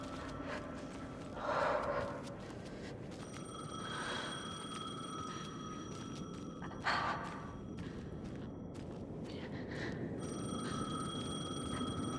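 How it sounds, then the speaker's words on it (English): Telephone ringing in the video game Alan Wake 2, a steady electronic bell tone repeating in bursts over a dark ambient game soundscape with faint breaths and rustles. "The phone again."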